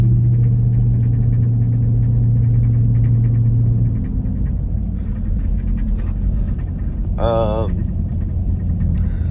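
Chevrolet Suburban engine rumbling low and steady while driving, a continuous drone under cabin noise with a brief chime-like tone near the end.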